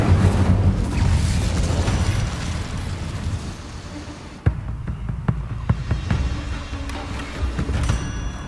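A fire spell cast in the video game Hogwarts Legacy, with a loud roaring burst and whooshing rumble that fades, followed by sharp magical impacts and crackles.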